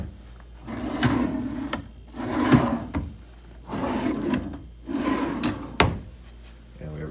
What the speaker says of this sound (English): We have a few drawers here.